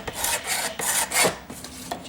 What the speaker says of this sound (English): Sand the bit that's sticking into it.